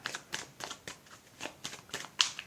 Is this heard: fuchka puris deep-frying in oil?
no